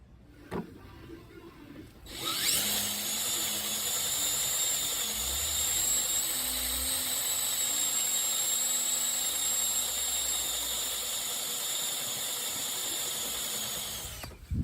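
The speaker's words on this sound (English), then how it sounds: "So I just got to drill out these spot welds." A drill starts after a quiet moment and runs continuously with a high, steady whine as it drills out spot welds on a rusted Dodge Ram rocker panel, loud and close, with no talking.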